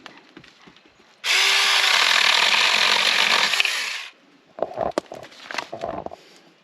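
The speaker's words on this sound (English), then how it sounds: "Now we have this little mini chainsaw to cut off the branches." A small mini chainsaw whines loudly for about three seconds as it cuts branches while pruning, then stops, followed by scattered clatter and rustling of branches.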